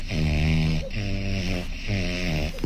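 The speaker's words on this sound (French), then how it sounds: "Oui, mais tu ronfles." A person snores in slow, rhythmic breaths, three drawn-out rumbling snores close by and fairly loud, with no talking.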